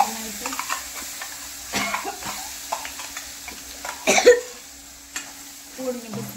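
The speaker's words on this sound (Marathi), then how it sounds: "तेल गरम झाल्यानंतर कढीपत्ता घालून घेते, मसाले पण सगळे घालून घ्यायचे तेलामध्ये" Curry leaves and spices crackle and sizzle in hot oil for a Marathi modak bhaji made with umbar, with a soft steady fry broken by sharp spattering bursts and a few stirring clinks, close up, no talking.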